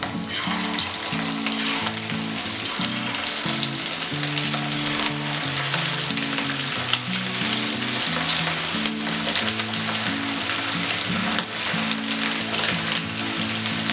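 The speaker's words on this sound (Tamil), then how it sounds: "இப்போ நம்ம இதை மேரினேட் பண்ணி வச்சிருக்கிற சிக்கனை ஃப்ரை பண்ணி எடுக்க போகிறோம்." Pieces of marinated chicken deep fry in oil with a loud, dense, unbroken sizzle and crackle that fills the whole stretch, steady and close, with no voices.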